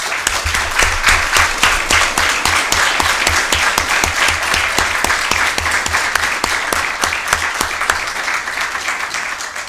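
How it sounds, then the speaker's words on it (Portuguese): A large audience claps steadily for military police officers at a Federal Public Ministry event in Goiás, with dense, even applause filling the whole stretch without any speech over it. "peço a todos vocês uma salva de palmas para essas policiais militares"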